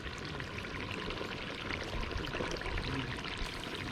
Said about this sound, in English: To make my gravy, you know, say, me just take out back some of the same hot water.